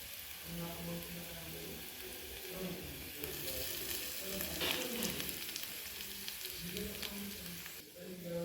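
Paneer frying in a pan with browned onions for a palak paneer paratha filling, a soft steady sizzle with occasional stirring scrapes, faint and close.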